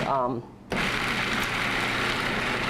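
A food processor whirs loudly into action, blending basil pesto ingredients. A brief voice comes first, and then the motor takes over as a steady, dense grinding whir that continues to the end.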